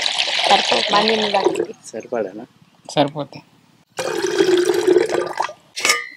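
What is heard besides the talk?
water being poured into a clay pot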